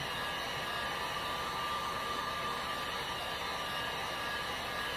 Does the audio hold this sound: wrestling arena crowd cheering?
no